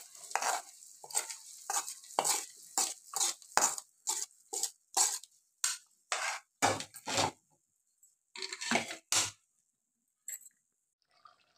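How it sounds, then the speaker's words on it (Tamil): Tempering poured and stirred into meat pickle in a pot, a series of short sizzling, scraping bursts in uneven rhythm, close and fairly loud with quiet gaps between, trailing off near the end. "இப்போ தாளிச்சதை அதில் கொட்டி மறுபடியும் பொறுமையாக வந்து வேக்காடு விடணும்."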